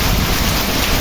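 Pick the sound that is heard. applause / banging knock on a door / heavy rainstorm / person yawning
heavy rainstorm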